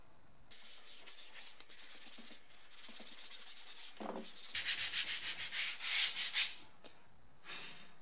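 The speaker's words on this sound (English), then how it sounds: "With the sanding done" Steady abrasive sanding strokes on a BMW E30 M-Technic sports steering wheel, a dry scratchy rubbing that starts and stops in bursts, close by and fairly loud, with no talking.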